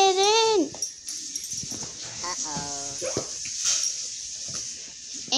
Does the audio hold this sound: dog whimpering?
yes